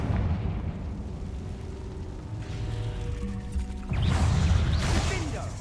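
A Confringo blasting spell goes off in a Harry Potter video game, a sudden loud burst near the end over a steady rumbling game soundscape, preceded by a brief rising magical tone.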